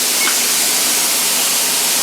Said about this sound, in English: it's been almost 10 minutes since the steam started coming